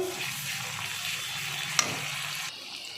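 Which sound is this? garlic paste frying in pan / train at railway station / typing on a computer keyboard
garlic paste frying in pan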